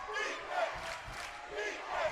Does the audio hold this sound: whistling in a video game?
no